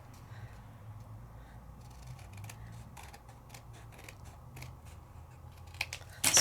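Scissors cutting through a double stick peel off sticker sheet, a soft run of small crisp snips and rustles over a faint low hum, ending with a louder handling noise.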